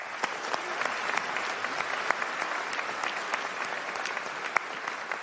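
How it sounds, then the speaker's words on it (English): Sustained applause from a university spring convocation audience, dense steady clapping with a few sharper claps standing out, filling the hall at an even level throughout. "Give yourself a round of applause."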